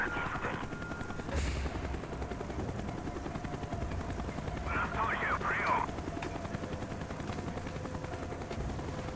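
Helicopter hovering with a spotlight at night in the Black Ops video game, a steady chopping rotor drone under game sound effects and brief distant bursts, with a voice speaking at times.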